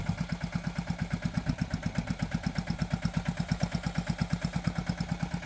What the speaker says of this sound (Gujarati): સાડા દસ હોર્સ પાવરનું એન્જિન છે આ સનેડામાં